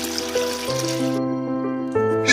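Pieces of raw goat liver are rinsed in water for a curry. The water splashes and trickles steadily, close by, under sustained, steady tones.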